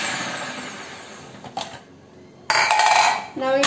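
A Philips food processor whirs steadily while slicing cucumber, with a dip in the motor noise before a louder, harsher burst of cutting and rattling near the end.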